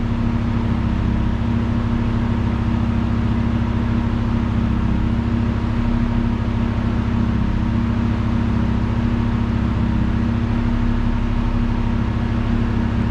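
Radiator cooling fans on a Honda CRX with a new radiator run together, giving a steady, loud, even whir with a low mechanical hum that holds constant throughout, alone without talk.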